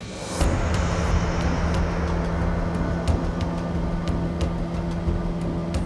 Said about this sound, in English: You can definitely hear a plane propeller.